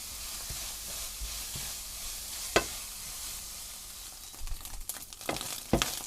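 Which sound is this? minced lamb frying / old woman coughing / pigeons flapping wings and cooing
minced lamb frying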